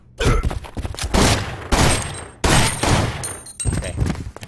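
Repeated gunfire in the survival-horror game Resident Evil Outbreak, a string of loud, close bursts with short gaps between shots, the last one blasting something open.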